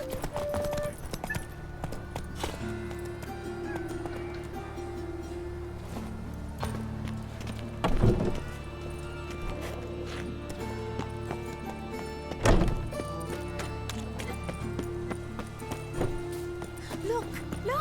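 Roach, a horse in The Witcher 3 video game, gallops with steady rhythmic hoofbeats close by, joined by music and a couple of louder thumps, with a voice talking briefly.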